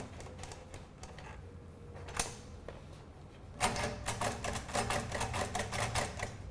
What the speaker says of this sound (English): This is what we call the Braille machine. You put your paper through.